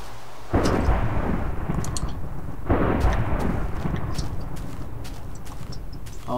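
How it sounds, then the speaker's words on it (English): Deep rolling thunder from lightning in Minecraft rumbles continuously, with a sharp crack and fresh boom partway through, loud and close, no talking. "Well, but I did hear the lightning."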